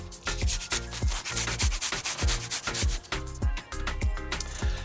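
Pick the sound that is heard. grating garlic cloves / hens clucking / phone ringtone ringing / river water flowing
grating garlic cloves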